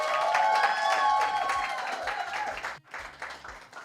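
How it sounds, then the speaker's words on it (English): Audience applause at a church gathering: steady, full clapping from a crowd that holds for a few seconds, dips sharply near the end, then picks up again, with a sustained tonal hum running beneath it. "let's have a round of applause for tomorrow's event"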